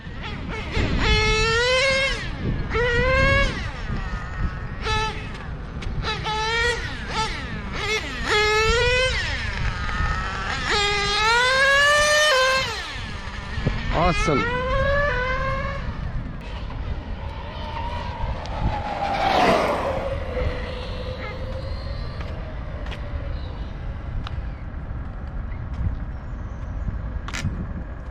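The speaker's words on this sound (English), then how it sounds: "Pretty fast nitro car." A fast nitro-powered RC car makes repeated high, whining engine bursts that climb sharply in pitch as it speeds past again and again, growing fainter toward the end; a voice briefly speaks once.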